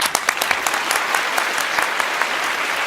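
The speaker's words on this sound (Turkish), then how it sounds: "Hadi kendisini bir alkışlayalım." An audience applauds a winning pair at the final of a Turkish word-game show, a dense patter of many hands with a few sharper claps standing out, steady and fairly loud throughout.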